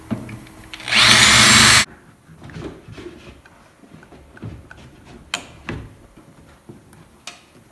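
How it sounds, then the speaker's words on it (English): A power drill drills out rivets on a Chevy Impala body being rebuilt: one loud, high whine lasting about a second, then quiet clinks, taps and shop clatter. "Got to come through and drill out all these little rivets."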